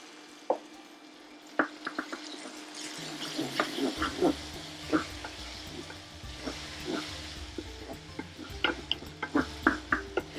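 Garlic and ginger paste frying in a stainless steel pan on an induction hob, for a lamb rogan josh: a quiet, close sizzle with scattered sharp pops and crackles, and stirring scrapes now and then.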